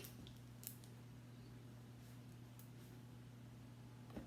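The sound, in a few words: kitchen scissors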